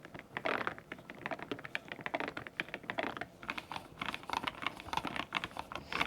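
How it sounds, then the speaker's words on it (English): A brand-new keyboard fitted with Cerakey V2 ceramic keycaps is typed on in a quick, uneven patter of crisp, close keystrokes that continues steadily for several seconds, with no voice. "Let's do a little bit of typing."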